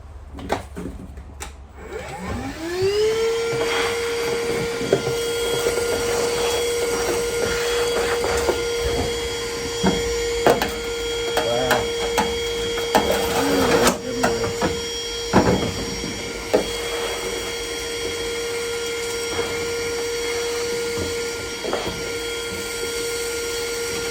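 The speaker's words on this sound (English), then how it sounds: "So I'll go and get the vacuum, I'll clean that up" A vacuum cleaner starts up and keeps droning at a steady, high whine, close and loud, with occasional knocks and rattles as it sucks up debris.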